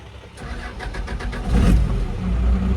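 A vehicle engine starts with a little gas: a short cranking rattle catches into a loud, close engine that rises as it's revved, with no talking.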